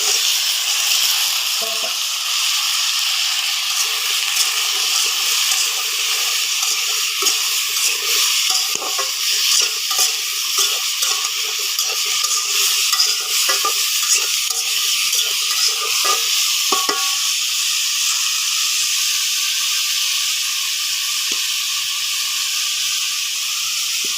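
Vegetables for a vegetarian dish fry in a hot pan with salt, producing a continuous loud sizzle punctuated by frequent scraping stirs that fade toward a steadier hiss.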